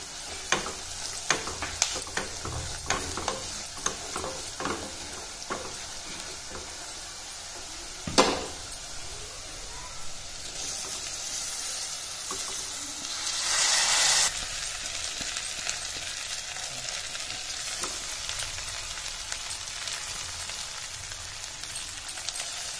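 Onions with salt, ground coriander, turmeric and chili powder sizzle in a pan for moong dal khichdi, a continuous frying hiss broken by repeated spatula scrapes and a brief louder burst partway through.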